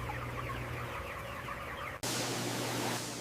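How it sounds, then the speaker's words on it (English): Thousands of chickens cluck steadily in a crowded climate-controlled poultry house over a low ventilation hum, and a brief cut splits the clip partway through. "where thousands of chickens are raised in climate-controlled facilities"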